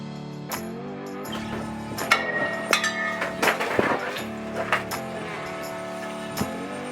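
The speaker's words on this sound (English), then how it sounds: "We'll hammer it." Sharp metallic hammer strikes knocking off a steel bracket, irregular and ringing, with a cluster of quicker blows in the middle and a few scattered hits at the ends.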